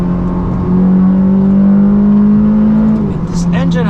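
A Ferrari F430 engine pulls steadily under acceleration while driving, a loud, sustained drone with a rising tone that eases off near the end, heard from inside the car.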